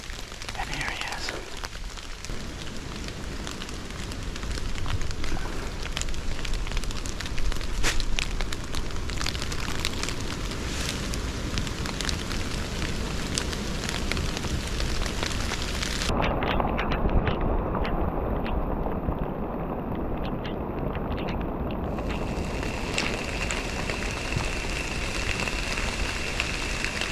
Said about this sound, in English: It's so hard to see, it's raining so hard.